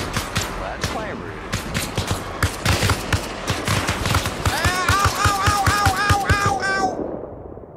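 Rapid automatic gunfire in Arma Reforger, with sharp shots rattling in quick bursts and a sustained stream of rounds, close and loud, with a ringing tonal sound near the end.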